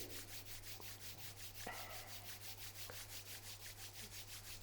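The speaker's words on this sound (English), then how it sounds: "Now both hands, both palm together. Rub your both palm," Palms rubbing together during a beginner yoga exercise, a soft steady rhythmic swishing repeated many times at an even pace, fairly close, with a low constant hum underneath.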